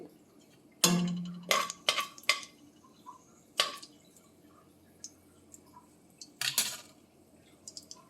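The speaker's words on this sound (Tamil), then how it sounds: "பாருங்கள், கடுகு பொரியுது." Mustard seeds splutter in hot oil in a pan while bean curry and bitter gourd thokku are cooked, giving sparse, irregular sharp pops and crackles. The popping is fairly quiet and close, with short gaps and no talk over it.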